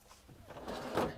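A single soft-close drawer in a 2020 Newmar Dutch Star 3736 motorhome slides shut and settles with a gentle muted thud, quiet and close, with no talking.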